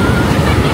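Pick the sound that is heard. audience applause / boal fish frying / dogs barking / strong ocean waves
strong ocean waves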